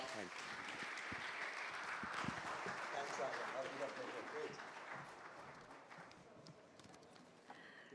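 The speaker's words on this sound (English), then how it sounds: "Let's give Vishal a big round of applause." Audience applause fills a hall at the TiEcon Delhi 2024 entrepreneurship conference after a fireside chat, a dense, steady wash of clapping from a large crowd that holds for several seconds and eases slightly toward the end.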